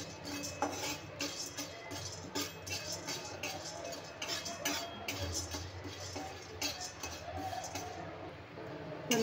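Split chickpeas being dry-roasted in a pan, a string of light, irregular clinks and scrapes from a spoon stirring against the metal, soft and close with a low background hum.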